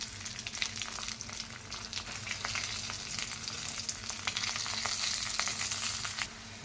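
Curry leaves, dried chillies and garlic frying in hot oil, a dense crackling sizzle with scattered pops and light stirring scrapes, steady and close, with no talking.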